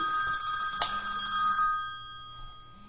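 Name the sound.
telephone ringing during a live trading stream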